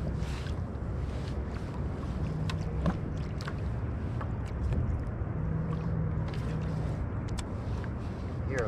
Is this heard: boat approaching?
yes